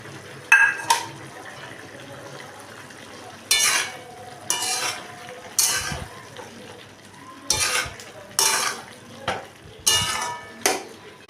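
Dried fish (shutki) added to a pan of nearly dried, boiled ingredients and stirred, giving repeated scraping and clinking strokes of a spoon against the pan over a faint sizzle, close and without talk.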